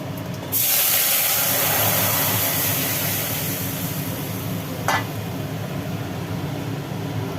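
Boiled dal poured onto hot tempering of bay leaf, dry chilli and panch phoron in a pan: a sudden loud sizzling hiss that slowly settles into a steady crackle, with a short clink near the end.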